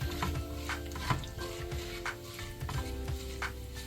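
Urad dal fries in a pan over a slow flame, a steady low sizzle under repeated scraping stirs of a spoon against the pan, close and continuous with no talking.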